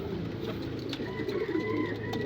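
Two pet pigeons cooing softly nearby over a steady background hum, with a few low coos in a short stretch.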